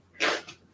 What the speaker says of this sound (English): I'm about to sneeze again.